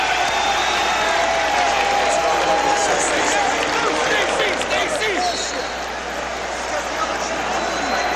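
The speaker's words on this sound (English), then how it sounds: "here's the applause from the crowd" A crowd at Chicago Stadium during a 1992 Bulls vs Cavaliers playoff basketball game, with a loud, continuous roar of applause and cheering filling the arena, easing slightly near the end.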